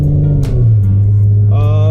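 A turbocharged Nissan G35 engine with a custom rear-mount turbo, steady and loud up close, its low drone settling lower before a higher whine rises near the end.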